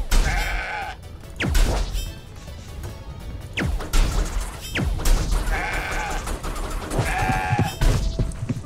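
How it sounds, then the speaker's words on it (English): Goats bleat repeatedly in the video game CrossCode, their cries recurring over busy combat sounds with sharp whacks, crashes and swooping effects. "Deal with the goats, avoid the guy."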